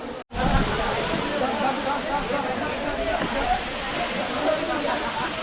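Bhivpuri waterfall roars from close by at its far end, a loud, unbroken broadband wash of falling water that holds steady throughout after a brief dropout at the start.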